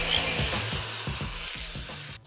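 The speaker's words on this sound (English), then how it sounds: "So I'm going to drill one hole first that's a bit smaller to guide the other ones" A power drill bores a small pilot hole through thin wood for a miniature Japanese diorama shelf, a steady close whirring with rhythmic low pulses as the bit bites, easing off at the end.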